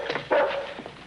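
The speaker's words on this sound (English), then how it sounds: "Would you keep your dog quiet?" A dog barks outside at night in an old radio-style comedy scene, a few close, hoarse barks and whimpering yips in quick succession.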